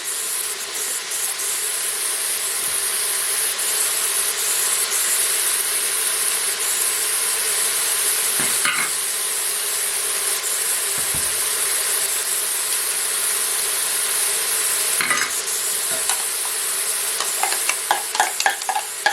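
Beef for a beer stew browns in a pan with a dense, bright sizzle that holds steady throughout, with a few scraping and rattling touches near the end.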